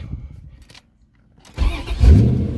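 A 1992 Corvette engine cranks briefly after a short quiet pause, then catches and fires up loudly close by, settling into a rough running rumble.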